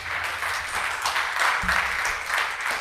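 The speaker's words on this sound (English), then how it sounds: "Let's give the Lord a hand clap praise" A church congregation claps hands together in praise, a steady, full burst of applause with no pauses, a low thump near the middle.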